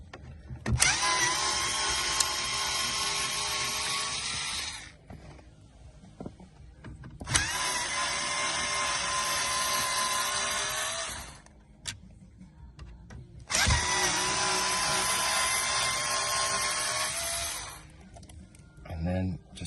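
A power screwdriver runs in three sustained whirring bursts of about four seconds each, separated by pauses, while screws come out of the AC climate control panel of a Range Rover L405/L494.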